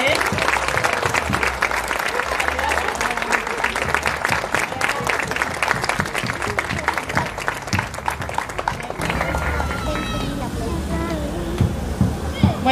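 An audience at an International Day of Persons with Disabilities event applauds a 13-year-old boy, loud dense clapping for about nine seconds that then thins into scattered claps under chatter and murmuring voices.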